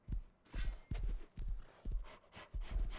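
A horse gallops in the video game Rust, its hooves beating a quick, steady clip-clop rhythm of about six strides, near and clear, with faint breathy snorts between footfalls.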